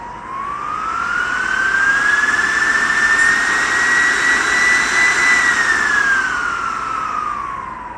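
Cooling fans fitted to an electric bike hub motor run with a steady loud whirring roar that rises in pitch, holds, then slowly winds back down, heard close with no talk.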